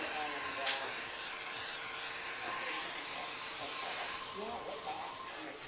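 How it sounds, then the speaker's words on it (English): An airbrush spraying makeup down a bride's neck gives off a steady, soft, airy hiss that stays even throughout, with faint sounds in the room behind it. "And that's airbrush makeup."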